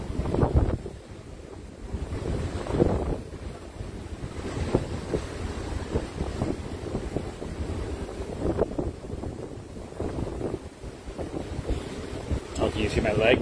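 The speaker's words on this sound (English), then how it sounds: "The ship is pretty windy out here at the moment." Strong, steady wind buffets the microphone on the open deck of a cruise ship at sea, with rushing air and a low rumble throughout and occasional surges.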